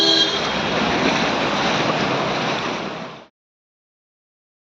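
Floodwater after heavy rain covers a Bangalore road near Ejipura and Rama Temple Road with a steady, loud rushing wash and wind buffeting the mic, then it cuts to silence before a brief burst at the end.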